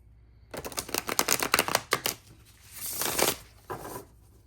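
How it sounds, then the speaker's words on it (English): A deck of tarot cards is riffled and shuffled close up, with a fast burst of crisp flicking followed by softer sliding and a final short riffle, and no voices. "So we are going to shuffle our cards together."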